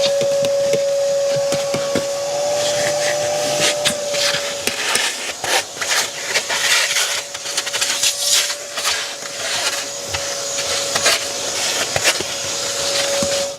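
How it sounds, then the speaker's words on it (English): A vacuum cleaner runs continuously while cleaning a car's interior carpets during detailing. Its steady motor whine sits under scraping, rubbing and occasional knocks as the nozzle moves across the floor. "Well, that was extremely easy to vacuum out."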